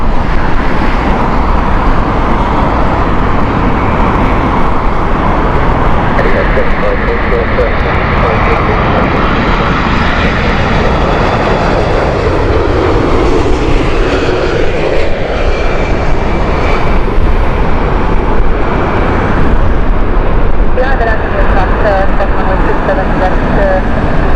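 An Etihad airliner in Abu Dhabi Grand Prix livery arrives at Heathrow Airport, its loud jet engine roar sustained and rumbling throughout, with a voice talking at times under the noise.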